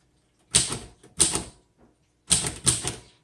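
Keys struck on a 1936 Royal Model O manual typewriter with keys in fine condition, four crisp clacks in two close pairs with a faint tap between, near and clear with no talk.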